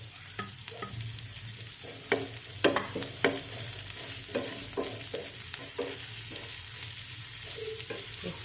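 Ginger frying in hot oil in a pan, a continuous sizzle broken by repeated clinks and scrapes of a spoon stirring, close up with no talking.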